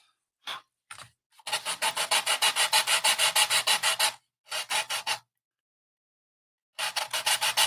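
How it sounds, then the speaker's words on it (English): Rhythmic back-and-forth sanding strokes on a 1:24 scale model cable car part, a few short scrapes, then a long fast run of rasping passes, a pause, and more sanding. "If you cannot hear me over the sanding, let me know"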